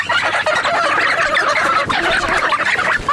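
Loud, busy poultry chatter from a flock at a country homestead, with overlapping clucks and gobble-like calls running continuously up close, no talk heard.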